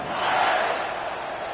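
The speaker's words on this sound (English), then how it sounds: "this crowd is buzzing after that last score" A stadium crowd in an NCAA college football video game buzzes after a touchdown, a broad, steady roar of many voices that swells slightly and then holds.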